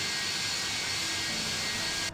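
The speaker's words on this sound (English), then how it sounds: "Let's watch this engine start up from the outside" An MD-80 jet engine spools up in a flight simulator, a steady loud whining roar with a sustained high tone, heard from outside and cutting off abruptly at the end.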